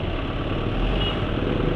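A motorcycle engine running on GGI Maxoil 20W50 oil, idling with a steady, rough low rumble that holds at an even loudness for the whole short stretch, with no voices.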